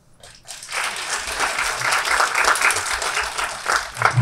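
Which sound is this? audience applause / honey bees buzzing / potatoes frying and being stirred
audience applause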